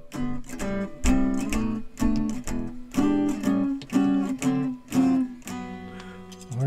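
A 1973 Gibson Howard Roberts Custom electric guitar played unplugged, strummed chords ringing with a bright, chimey acoustic tone in a steady rhythm of repeated strokes, close and moderately quiet, with no voices.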